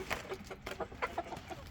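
Several farm chickens cluck close by in short, overlapping bursts of calls that come and go over a soft background, with no talking.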